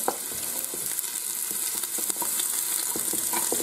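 Onions and peppers sauté in a Ninja Foodi, making a continuous close sizzle dotted with light stirring clicks and no voices.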